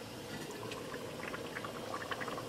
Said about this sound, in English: As you see, the water started to boil.